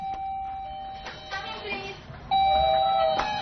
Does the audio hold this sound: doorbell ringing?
yes